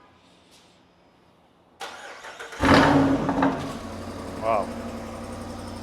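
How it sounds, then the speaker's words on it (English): A Jeep Wrangler 392 V8 cranks and fires into a loud cold start with its exhaust valves closed, surges briefly, then drops into a deep steady idle. A voice exclaims once. "All right, here we got a cold start like always. This one's got the valves closed."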